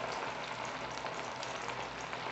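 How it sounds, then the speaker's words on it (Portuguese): Ground beef meatballs fry in a little oil in a small pan, a loud, close, continuous sizzle and bubble. "Vou deixar os meus aqui fritando."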